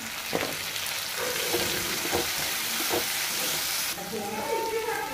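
Chopped tomatoes added to onions frying in a pan for a broad bean fry, a steady close sizzle with a few scraping stirs, the frying flaring louder near the end.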